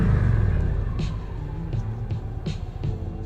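A motorcycle brakes to a stop on the rear brake alone, its engine rumble close and loud, settling lower with faint mechanical knocks as it slows.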